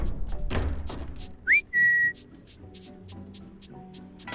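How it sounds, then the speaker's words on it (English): A short whistle calls a dog in The Grinch Christmas Adventures video game: two quick rising-then-steady whistle notes, the second held longer, over a soft ticking game ambience. "Give Max a whistle."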